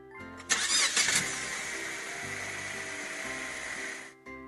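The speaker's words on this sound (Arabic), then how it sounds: "سيارة." A car engine starts with a sharp cranking burst, then settles into a steady idle that runs loud and close for several seconds before cutting off.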